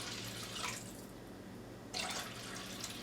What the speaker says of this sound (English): What you want to do is you want to cover the beans 2 to 3 inches above your beans with your water.